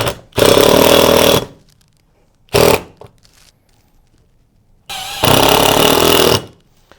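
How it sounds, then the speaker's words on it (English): A power drill drives a number 14 screw into a retrofit H-Apex bracket on BRAVA synthetic slate roofing, heard as three loud, close bursts of whirring with quiet gaps between them. "Take your number 14 screw and your drill."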